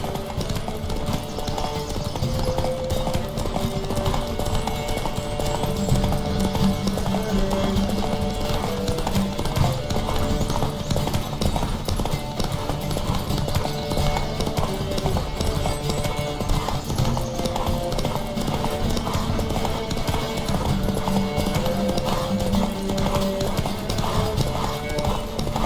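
Horse hooves clip-clop and gallop steadily throughout a race in The Witcher 3 video game, mixed under music with an occasional whinny and faint shouting voices.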